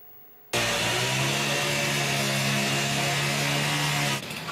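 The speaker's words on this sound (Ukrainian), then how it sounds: "Болгаркою в казино так правоохоронці проривалися в підпільну гральну залу в центрі Києва на Бесарабці." An angle grinder suddenly starts up and cuts loudly and continuously through a door into an underground casino in central Kyiv, with a harsh, steady whine for about four seconds, then winds down.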